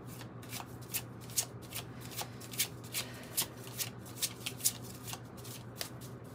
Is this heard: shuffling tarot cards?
yes